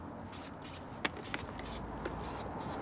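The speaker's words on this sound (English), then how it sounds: "it's literally just spray it on, nice even motion" Lanoguard rust protection spray hisses out in soft, repeated bursts as it is applied to a vehicle, each short spray separated by brief pauses, with a few faint clicks and taps in between, quiet and close.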